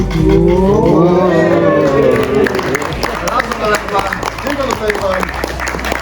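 Audience applause and crowd noise follow a magic stunt performed live, loud and sustained over the room, with people talking and murmuring through it.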